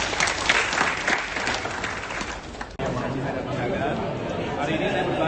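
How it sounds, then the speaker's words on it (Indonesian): An audience claps at an Indonesian book launch event, a loud burst of applause with crowd chatter that dips briefly midway and then continues more softly. "Tepuk tangan sekali lagi untuk kami."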